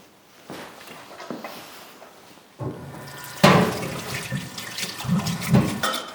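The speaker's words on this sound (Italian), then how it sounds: "Laviamo le patate." Potatoes rinsed under a running kitchen tap, a steady splashing stream that starts soft and swells louder after a few seconds, with water drumming unevenly and no voices.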